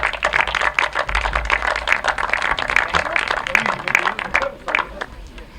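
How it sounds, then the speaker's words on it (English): Applause for a pair of sidecar riders at a grasstrack meeting, with many hands clapping in a steady, crowded patter across the whole stretch, fairly close and loud, and a faint voice breaking in briefly. "Come up here and have a round of applause"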